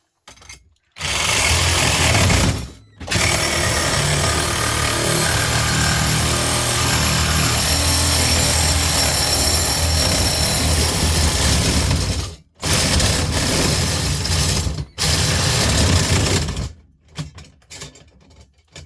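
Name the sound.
saw blade cutting stainless steel gas torch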